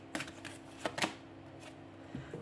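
Tarot cards being shuffled and drawn by hand, a few soft, quick riffling flicks and light taps, quiet and close with no talking.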